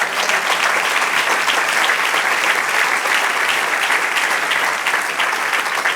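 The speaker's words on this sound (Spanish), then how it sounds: "Den un aplauso al Señor." A church congregation applauds continuously during a worship service, a dense, steady roar of clapping hands filling the room for the whole stretch with no pauses.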